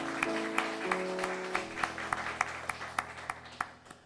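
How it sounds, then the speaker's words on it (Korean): A church congregation claps at a Sunday worship service, sparse and evenly spaced claps over sustained keyboard chords that fade toward the end. "우리 따뜻한 박수로 축복하겠습니다."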